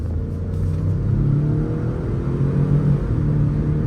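A 2023 Ford Expedition Limited accelerates from inside the cabin, its engine drone steady and rising in pitch over four seconds, loud and continuous with no talking.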